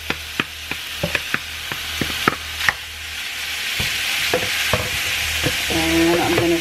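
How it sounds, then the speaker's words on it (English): Ground beef sizzles steadily in a warm pan while a utensil stirs and scrapes in quick, regular taps, the frying hiss growing fuller as it goes on, close and alone. "I have my pan warming up. I have my ground beef here, so I'm gonna go ahead and put that in there."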